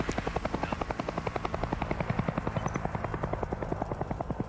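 A helicopter's rotor thumps in a fast, steady rhythm throughout, loud and close, with no talking, in the video game Hell is Us.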